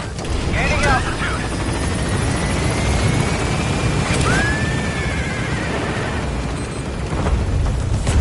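A helicopter takes off in the game Metal Gear Solid V: The Phantom Pain, giving a loud, steady rotor and engine roar that fills the whole stretch without letting up.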